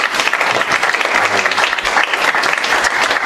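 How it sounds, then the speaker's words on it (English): An audience at a live members' event claps in a loud, steady burst of applause that lasts the whole moment, close and continuous with faint crowd noise. "So give a round of applause for all the members here."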